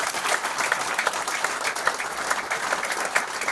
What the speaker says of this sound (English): So can we put our hands together and give a big,